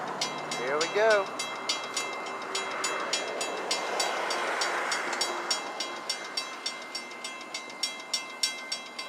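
A CSX mixed freight train rolls past at night, a loud continuous rumble with steady rhythmic clicks of wheels over rail joints, and a brief squeal near the start.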